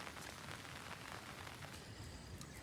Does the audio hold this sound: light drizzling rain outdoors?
yes